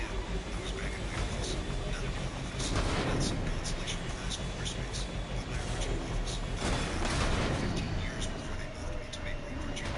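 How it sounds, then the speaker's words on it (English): Gunfire in Mass Effect Legendary Edition, with dense bursts of weapon fire and explosions layered under game music and effects, swelling loud around the third and seventh seconds. "I can easily punch through shields with gunfire"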